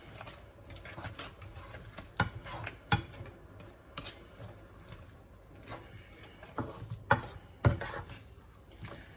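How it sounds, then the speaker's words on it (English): Nasi goreng with soy sauce, pak choy and greens being stirred around in a pan, quiet clicks and scrapes of a utensil with a few louder knocks against the pan, close up, no talking. "I'm going to give that all a bit of a stir around"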